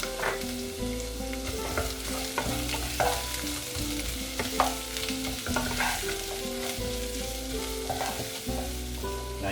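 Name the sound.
onions frying in hot sesame oil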